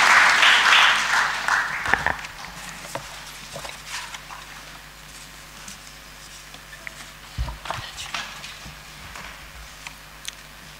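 Audience applause at a Tanzanian government launch ceremony, loud clapping at the start that fades within two seconds into a quiet hall with scattered shuffles and faint knocks.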